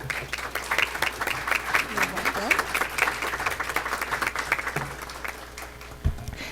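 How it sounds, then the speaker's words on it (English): Audience applause at a board of education meeting, a sustained round of clapping from a roomful of people that thins out toward the end, with some voices underneath. "Please join me in giving her a round of applause"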